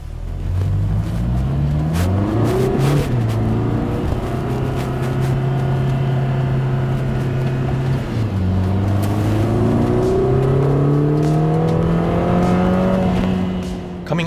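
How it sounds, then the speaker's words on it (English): A Lotus Emira's four-cylinder engine pulls hard out of the pits on the Hethel test track, revving loudly with rising tone through the gears, a brief dip at a shift, then climbing again, close and steady throughout. "Coming out of the pits, straight away, you can hear the ferocity of the most powerful four-cylinder engine in the world"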